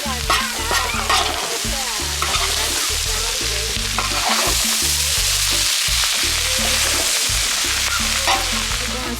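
Vegetables stirred and fried in a discada, with a steady loud sizzle and the repeated scrape and clank of a utensil against the metal disc, close up and continuous.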